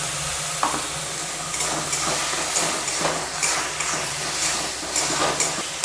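Tomato paste hits a hot pan of ginger paste for paneer butter masala, sizzling and hissing steadily while a spoon stirs it in with soft scraping bursts.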